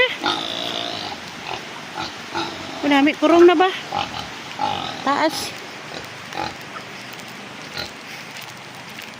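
A pig grunts and oinks in bursts close by on a farm, its rough snorts mixed with people talking and background noise.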